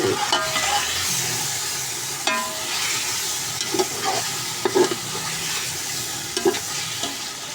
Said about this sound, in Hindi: अब इसको अच्छे तरीके से हम मसाले को मिक्स करेंगे